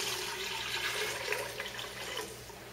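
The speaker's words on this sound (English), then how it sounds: "to the soup pot, you are going to add 8 cups of water" Water pours steadily into a soup pot in a home kitchen, a continuous close splashing rush with no talk.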